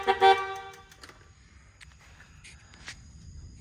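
A brief, clear toot of the horn on a Kawasaki KLT three-wheeler at the very start, followed by faint garage clatter and quiet background.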